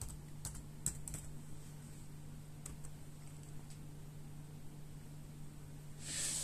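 Password keys tapped on a Dell Latitude 3330 laptop keyboard, a few faint clicks in quick succession early on over a steady low hum, then quiet.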